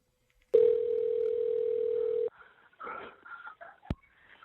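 A telephone ringback tone sounds at the start of a recorded 911 emergency call. The single long, steady tone lasts under two seconds, then muffled line noise and indistinct voices follow.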